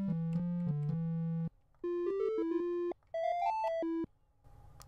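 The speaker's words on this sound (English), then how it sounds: "this will be a triangle, and so you'll hear a triangle" Synthesizer set to a triangle wave in the Trooper plugin, playing a short melodic sequence of clean, pure tones in three phrases, first low held notes then higher stepping notes, moderately quiet and alone.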